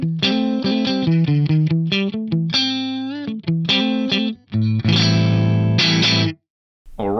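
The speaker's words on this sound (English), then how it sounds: "On my Strat, it sounds like this." Fender Stratocaster electric guitar run through an Axe-Fx III on near-stock settings with a custom impulse response, playing a bright, slightly driven melodic riff of quick notes and bends, loud and alone with a short pause near the end.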